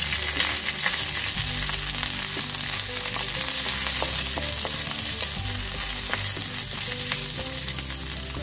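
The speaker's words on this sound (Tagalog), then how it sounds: "Gisa natin lahat yung ating ingredients" Chopped onion, ginger and garlic sizzling steadily in hot oil in a pan, with a loud, continuous crackle and occasional stirring clinks close by, no voices.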